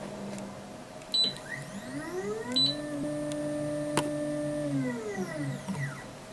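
An Anycubic Photon M3 resin printer lifts its Z axis with a rising then falling motor whine, pitch sweeping smoothly over several seconds, punctuated by a few short beeps and clicks, close and fairly quiet.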